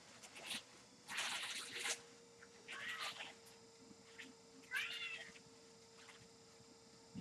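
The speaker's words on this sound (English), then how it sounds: "She meows." A cat meows several times, short close calls separated by pauses, over a faint steady background hum.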